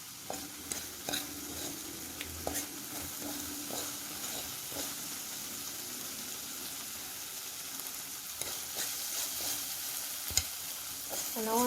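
Onions and tomatoes fry in a pan for a cheesy omelet, a continuous soft sizzle broken by repeated scraping stirs and light utensil taps, close by with no talking.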